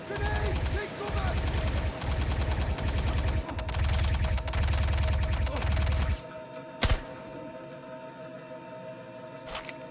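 Heavy automatic gunfire in Star Citizen, long rattling bursts broken by short pauses for about six seconds, loud and close, then stopping, leaving a low hum with a couple of sharp isolated thuds.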